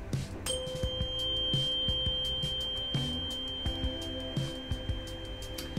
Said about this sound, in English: So here's the tuning fork of 512.